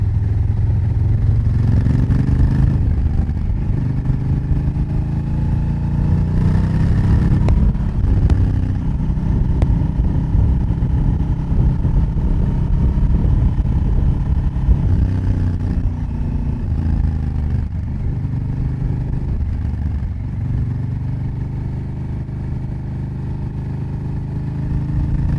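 A Honda Africa Twin motorcycle riding a curvy road outside Barcelona, with a loud continuous engine and exhaust drone that rises and falls through gear changes along with steady wind rush.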